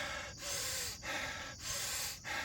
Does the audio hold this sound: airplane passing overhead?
no